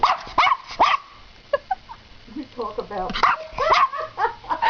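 A dog yips, whimpers and barks in short bursts close by, mixed with a person talking to it.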